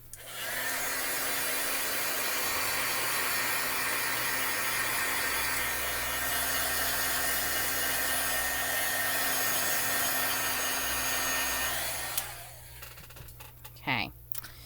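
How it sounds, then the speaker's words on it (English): Heat tool setting ink on a stamped image blows a loud, steady, fan-like whoosh for about twelve seconds, then cuts off, leaving faint handling noises. "I am going to give it a quick set with my heat tool"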